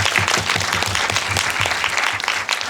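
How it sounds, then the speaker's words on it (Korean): Dense, continuous applause fills a large cinema as the audience at a Q&A screening of the Korean film 'Hell Money' (지옥만세) claps for three guests, loud and sustained throughout. "박수 한번 세 분께."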